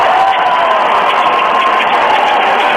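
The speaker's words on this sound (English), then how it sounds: "As you can hear the crowd." Packed hockey arena crowd at an OHL playoff Game 7 between the Erie Otters and London Knights, a loud sustained roar of cheering that fills the whole moment without letting up.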